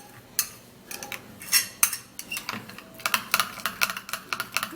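A homemade skin treatment is stirred in a bowl, giving irregular light clinks and taps of a utensil against the bowl, close and clear, in quick uneven bursts with no talking.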